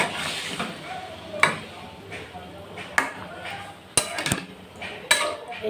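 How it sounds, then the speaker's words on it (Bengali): Curd fish curry (doi katla) being poured into a metal kadai, with sharp metallic clanks and scrapes of utensils against the pan at irregular intervals under someone speaking. "বাধ্য হয়ে এই কড়াইটাতে ঢালতে হলো"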